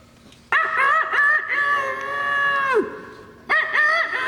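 A rooster crows loudly and close by in a long drawn-out call, then starts another crow after a short pause.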